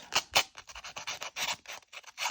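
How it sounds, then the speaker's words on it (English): Rough rasping scuffs repeat in quick, uneven strokes, like an abrasive stick rubbed briskly across paper edges, close and moderately loud with no talking. "This is just a sanding stick."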